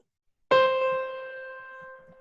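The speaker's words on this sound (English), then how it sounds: "you can find a society piano under the solo voices" A single sustained chord on a digital organ's society piano voice, struck sharply and left to ring, bright and steady, fading slowly over about two seconds with no other sounds.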